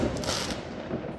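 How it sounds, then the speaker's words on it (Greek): Dense fireworks burst over Xanthi at a New Year celebration, a continuous rumbling crackle of overlapping bangs heard from a distance, loud and sustained without clear pauses. "Με βροχή πυροτεχνημάτων υποδέχθηκε το νέο έτος η Ξάνθη."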